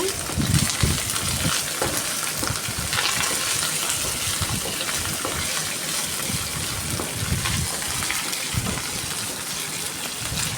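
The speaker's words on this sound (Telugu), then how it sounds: "పోపు బాగా వేగనివ్వాలి మంచి స్మెల్ వస్తుందండి" Mustard seeds, curry leaves and other tempering spices frying in hot oil for a brinjal and chana dal fry, a steady dense sizzle and crackle that stays loud and even throughout with no talking.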